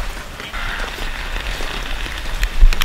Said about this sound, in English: It's raining for the first time.